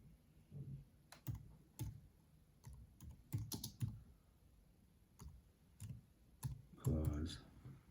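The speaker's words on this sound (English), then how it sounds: "I'm going to type in" Keys on a computer keyboard tapped in short irregular bursts of clicks, close and fairly quiet, with a brief louder clatter near the end.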